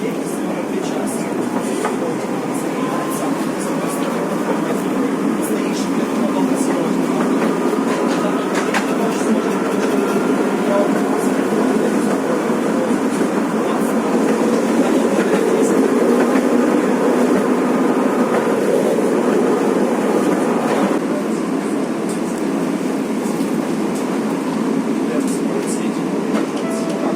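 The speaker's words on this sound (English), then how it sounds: "let's now go on these trams along to the outskirts of Kiev" Old, worn-out trams run through Kyiv toward the outskirts, giving a steady loud rumble of wheels and rails with occasional rattling clatter that continues throughout.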